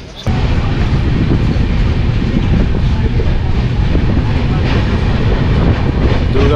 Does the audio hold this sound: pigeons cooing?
no